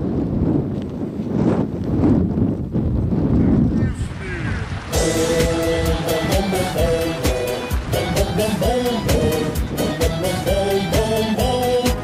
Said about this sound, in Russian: Ветер поднимается, да?